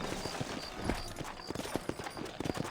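Horse hooves clip-clopping on a town street in the Red Dead Redemption video game, a steady rhythmic trot close by with no talk.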